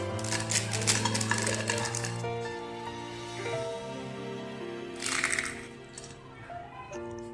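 Crispy fried bhujia made from gram flour and fresh coriander snapped apart by hand, giving a dense run of close, sharp crackling and crunching that comes in two bursts, with no talking.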